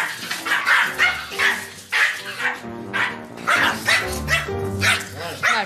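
Pomeranian dogs bark at a visitor in a home, giving repeated sharp, high yapping barks with a few whimpers mixed in. The barking is close and loud and comes in rapid bursts throughout.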